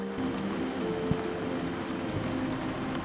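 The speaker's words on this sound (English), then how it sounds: "out here in the pouring rain" Pouring rain at an off-road caravan campsite in the Victorian High Country makes a steady dense patter, continuous and close, with a faint low hum underneath and no speech.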